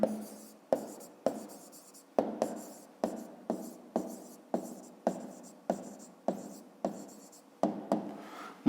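Pen strokes scratch across paper in short repeated bursts, about a dozen distinct strokes, close and clear, while a Ukrainian fifth-grade maths verification step is written out by hand, with no talking over it.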